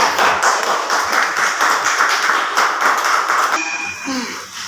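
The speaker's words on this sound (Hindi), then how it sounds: "हम इनवाइट करने जा रहे हैं आप सभी के जोरदार तालियों के बीच ओम प्रकाश सर।" Audience clapping at a gathering where a guest is welcomed to speak, a steady patter of many hands that fades out toward the end as a voice begins.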